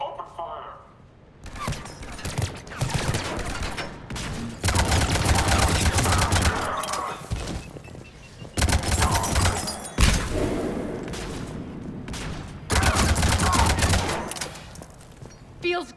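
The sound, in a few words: gunfire from enemies in the video game Mass Effect 3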